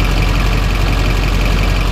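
A Duramax diesel engine idling with a ticking exhaust leak at the up pipe: a loud, steady, close engine drone with a fast, even tick running through it and no voices.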